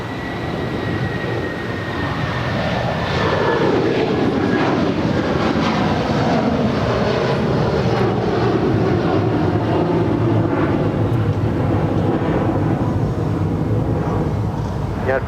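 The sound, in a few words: airliner at LAX, JetBlue on runway 25 left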